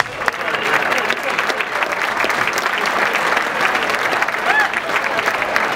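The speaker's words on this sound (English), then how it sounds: "How about a nice round of applause?" Wedding guests give a full round of applause after a maid of honor speech, a dense crowd clapping with scattered cheers and voices mixed in, sustained evenly throughout.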